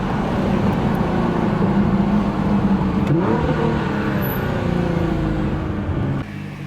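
A Nissan GT-R R35 fitted with an AAM 2.75-inch intake accelerates hard from inside the car, its engine roaring loud and continuous through rising gears with a brief dip at a shift.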